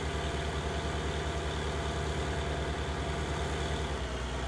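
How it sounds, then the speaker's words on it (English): A tractor engine in Farming Simulator 19 labors under load, a loud, constant low drone with a steady throbbing hum that runs unbroken throughout, with no voices. "Look at this tractor's struggling with this."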